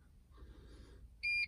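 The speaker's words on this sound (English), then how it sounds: "Ignition back on and wait for it to beep." A single short electronic beep from a Mercedes Sprinter dashboard during a service reset sounds near the end after a faint rustle, clear and steady for a fraction of a second.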